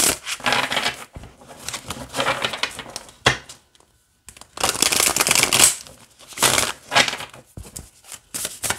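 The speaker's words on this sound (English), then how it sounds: "And it shuffles this way." A tarot card deck being shuffled by hand, in several separate bursts of crisp riffling and sliding card noise with short pauses between them, close and fairly loud.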